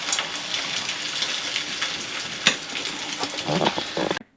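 Steady rain patters and hisses on a boat, with a few louder drips and splashes, then cuts off abruptly.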